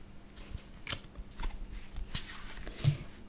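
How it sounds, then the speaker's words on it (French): Tarot de Marseille cards are fanned out and drawn from the deck by hand, giving soft, close papery slides and faint clicks that keep on in an irregular pattern over a quiet hiss. "je vais venir les mettre en éventail et piocher 6 cartes de la main gauche"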